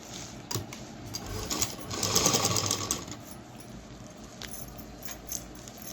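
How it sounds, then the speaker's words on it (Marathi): A sewing machine stitches cloth for a shopping bag made from an old gown, its fast mechanical whir rising into a steady run in the middle and fading back to quieter clicks, close and clear with no talk. "तर आता अशी शिलाई मारून घ्यायची आहे"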